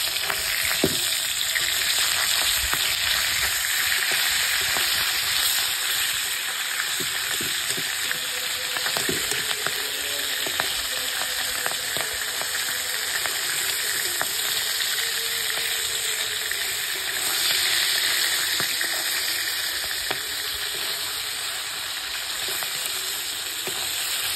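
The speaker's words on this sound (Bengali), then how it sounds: "এই মাছগুলোকে আমি ভালো করে উল্টে পাল্টে ভেজে নেব" Pieces of boal fish fry in a pan, a dense steady sizzle running throughout with occasional clinks and scrapes as they are turned; no talk.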